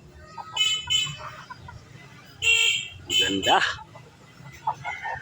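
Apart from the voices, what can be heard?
young rooster crowing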